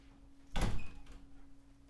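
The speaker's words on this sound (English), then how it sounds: "I gotta close the door." A door shuts with a single solid thunk at close range, a brief loud closing sound with a short rattle after it, then quiet room tone.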